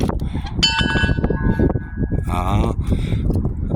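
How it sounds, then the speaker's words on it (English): A church bell rings out with a sustained metallic tone, struck a few times amid steady background noise and some voices. "I might as well ring said church bell"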